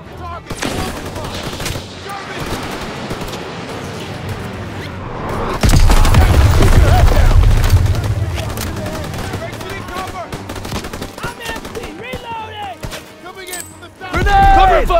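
Dense World War II battle gunfire in Call of Duty WWII, with rapid rifle and machine-gun bursts, a heavy boom near the middle and another blast at the end, loud and close, while soldiers shout over the fighting.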